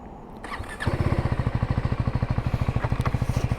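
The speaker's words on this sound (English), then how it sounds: "I have to say the rather familiar sound of KTM engine." A Husqvarna Svartpilen 401 with a KTM single-cylinder engine fires up after a brief starter whir, then settles into a loud, close, steady thumping idle with an even pulsing beat.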